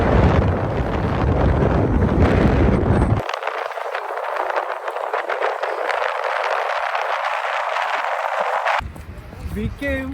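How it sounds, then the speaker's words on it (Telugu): Strong wind buffeting a microphone on a cold beach, a steady loud roaring rush that drops in its low rumble midway and returns near the end. "సో బీచ్ కూడా అలాగే ఉంది, కానీ అక్కడ గాలి మాత్రం చాలా ఎక్కువ వేసింది, చలి కూడా అంతే ఎక్కువ వేసింది."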